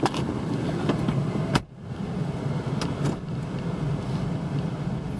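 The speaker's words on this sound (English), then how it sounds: "Attempting to move this vehicle in forward and reverse" A 2003 Ford Taurus wagon rolls forward slowly in a parking lot, giving a steady broadband rumble with wind-like noise and a brief dip in level partway through, heard close with no talking.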